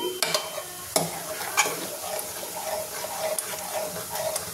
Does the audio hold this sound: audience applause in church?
no